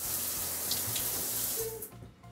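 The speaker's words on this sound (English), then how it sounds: "Neat little rain shower." A rain shower head in a Carnival Jubilee spa cabin bathroom runs with a steady close hiss of falling water, then cuts off near the end, with no talking.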